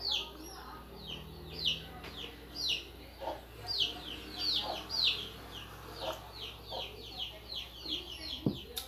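Chicks and chickens cluck and peep repeatedly nearby while being fed bread crumbs outdoors, in short rhythmic bursts over a quiet background, with a sharp knock near the end.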